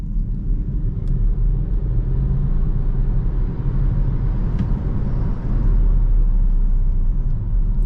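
A 2023 Volvo XC40 Recharge Twin electric car accelerates hard from a brake launch at night, heard from inside as a loud, steady low road rumble and tyre roar that swells slightly toward the end, with no engine note.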